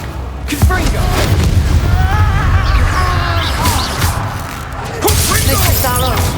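Confringo spell explosions in Hogwarts Legacy, a loud crashing blast with swooshing spell effects and shattering debris, mixed with combat shouts and a low rumbling background.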